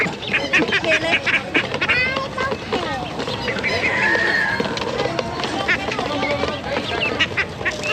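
Ducks quack and chatter at a farm pen during an agricultural fair, a busy run of calls with people talking nearby.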